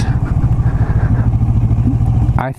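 A Kawasaki Vulcan S motorcycle with an aftermarket exhaust thrums steadily at highway speed with a rhythmic low exhaust pulse, wind and road noise mixed in, ending with a brief clatter.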